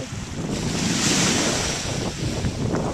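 Ocean surf rolls onto a sunny beach, a continuous loud wash of breaking waves mixed with heavy wind buffeting the microphone.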